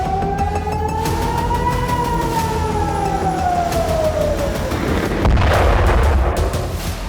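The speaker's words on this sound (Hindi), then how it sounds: "सायरन बजने लगी।" A loud wailing siren rises and slowly falls in pitch, sustained and continuous, with a burst of rumbling noise near the end.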